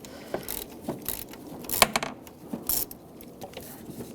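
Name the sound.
socket ratchet removing screw on VW GTI radiator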